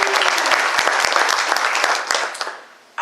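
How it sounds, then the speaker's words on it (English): An audience at the 2021 Distinguished Goldbugs event applauds a presenter with a steady wash of clapping that stays even for most of the stretch, then fades toward the end before a sudden sharp noise. "Let's have a round of applause for Mr."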